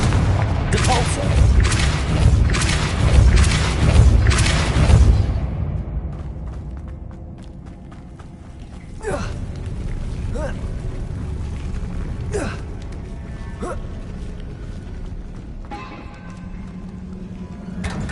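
Spell blasts from the Confringo and Depulso casts in the video game Hogwarts Legacy: a dense burst of booming impacts at the start, then scattered sharper bangs and thuds over a quieter ambient game background.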